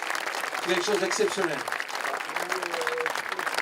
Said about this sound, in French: Un grand merci, applaudissez-les